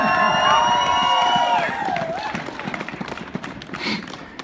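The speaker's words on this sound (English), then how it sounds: "Hey, clap it for science, will you?" A crowd at a climate speech cheers and claps, loud whoops fading into scattered applause and shouts over a few seconds.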